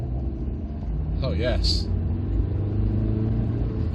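A 1995 Rover 214 Si's engine revs from inside the car, a steady loud rumble that rises slightly, while a person speaks briefly over it.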